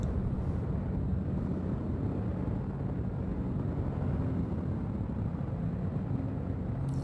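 A spaceship lifts off in Star Citizen 3.18, a steady, loud roar of engine rumble and broadband noise filling the whole stretch without pause.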